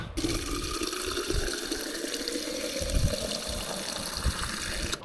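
Water runs steadily from a village water source in the settlement of Trnovo, a continuous close gushing flow like a tap filling a basin, with no voices.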